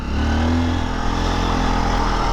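A 2024 Honda XR150L motorcycle rides through sand in second gear, its steady mid-pitched engine drone loud and continuous with a low rumble throughout and no talking.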